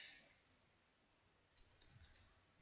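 A computer keyboard in a quiet room gives a few faint, quick key clicks in a short irregular burst after a stretch of near silence.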